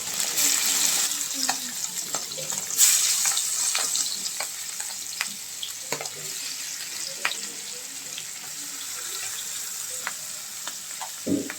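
Spiced small puti fish fry in hot oil, a loud sustained sizzle with crackling pops and occasional stirring clatter that eases slightly over the span.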